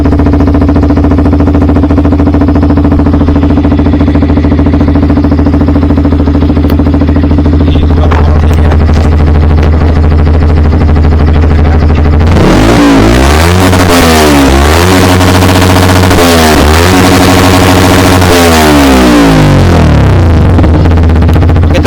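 Yamaha WR 155 motorcycle fitted with a 3Tech Ronin Musashi exhaust in racing mode, idling with a deep steady rumble, then roaring through several loud repeated throttle blips and revs close by.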